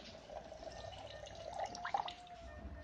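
Water poured into coconut milk in a kitchen, a soft, steady trickle and splash of liquid that rises briefly near the end before fading, with no talking.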